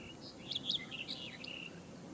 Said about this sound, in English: All the way up, we are listening to bird song.